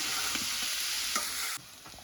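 Green chillies and onion fry in a pan with a dense, continuous sizzle and a brief stir partway through. The sizzle drops to a quieter hiss near the end.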